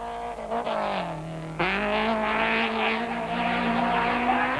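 A Conquest rally car at the 1991 Castrol International Rally struggles, then its engine catches about halfway through and settles into a loud, steady, buzzing idle with slight rises in pitch. No voices are heard.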